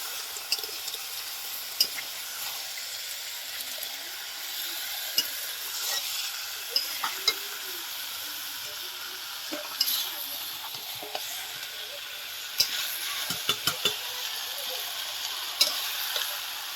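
Chicken curry with the water nearly cooked off simmers and sizzles in a pan at an outdoor family picnic, a continuous close hiss broken by occasional sharp pops and clicks of stirring, with no voices.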